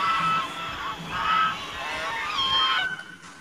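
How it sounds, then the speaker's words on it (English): Loud, nasal honking calls from a duck or similar waterfowl repeat several times in quick succession, close by, then cut off near the end. "Wow, duck."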